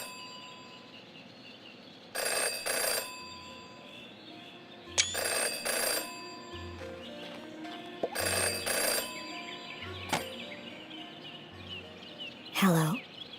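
A telephone rings in the video game Jenny LeClue, with four or five loud bursts of electronic trilling spaced evenly over faint background music.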